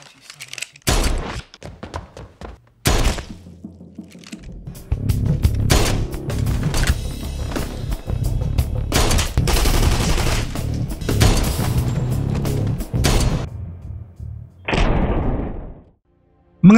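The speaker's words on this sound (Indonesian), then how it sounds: "Sorter di sini langsung menembak Paul dan membantai semua anak buahnya yang ada di dalam sana" A movie shootout scene is full of gunfire, with bursts of loud shots and rapid volleys interrupted by brief pauses, then heavy sustained firing through the middle, a final burst and a sudden cutoff.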